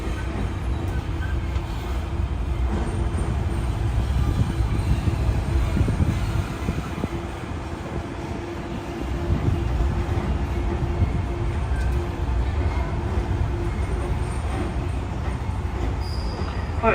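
Disneyland tram running, a steady low rumble of rolling wheels and motor that swells and eases slightly, heard close and continuous without talk.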